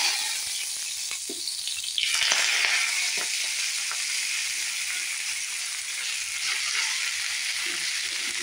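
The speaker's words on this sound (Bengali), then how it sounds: "জিরে দিয়ে মেথি শাকটা একটু ভেজে নেব" Chopped, drained fenugreek leaves fry with cumin in hot oil, giving a steady close-up sizzle, with a sharp hiss as they hit the pan and a few soft stirring scrapes.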